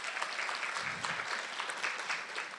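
Audience applause at a women's forum event, a steady wash of clapping from a room full of people lasting the whole moment.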